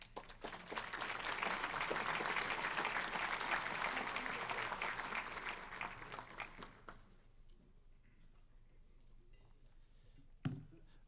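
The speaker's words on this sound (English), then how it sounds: "let's give Dr. Pia Orrenius another round of applause, please, for coming down here" Applause at a business economic outlook luncheon, a full room clapping steadily for several seconds, then thinning to scattered claps and fading into near quiet with one late sharp knock.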